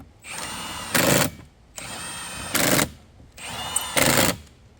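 Impact-style power tool snugging a car's wheel lug nuts after a flat tire, three short whirring bursts, each ending in a louder, rattling hammering, close by with brief pauses between.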